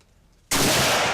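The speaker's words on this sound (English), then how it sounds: "Mosin Nagant 9130, first firing, 1942 model." A single very loud, close gunshot from a 1942-model Mosin Nagant 91/30 rifle firing 7.62x54 at a shooting range bursts suddenly out of near silence and saturates the rest of the clip.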